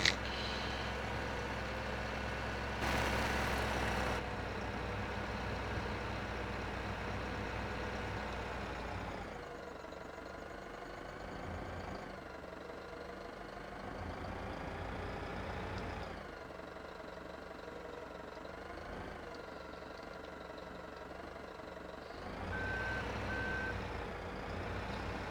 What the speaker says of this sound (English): That truck was a bit closer than I thought.